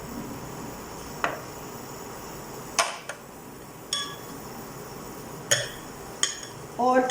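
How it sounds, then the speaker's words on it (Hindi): A pan is handled on a kitchen stove while oil is added for cooking salad ingredients: sparse, sharp metallic clinks and knocks spaced a second or two apart over quiet room hiss, ending in a brief rattling clatter. "अब थोड़ा सा तेल मैं अपने पैन में डाल देती हूँ।"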